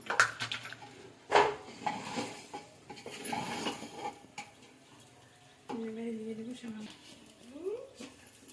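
Spoon scraping and clinking inside a metal pressure cooker while khichuri spices (cumin, chili, turmeric powder and salt) are stirred in, a series of uneven knocks with a voice talking over parts of it.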